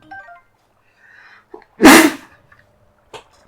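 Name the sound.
sneeze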